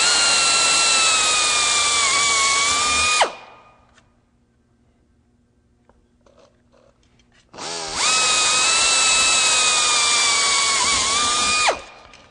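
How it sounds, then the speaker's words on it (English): A variable speed power drill bores through aluminum sheet metal in two loud, sustained whining bursts of about three to four seconds each, with a quiet pause between them. "You'll also notice that I have a variable speed drill that I'm using"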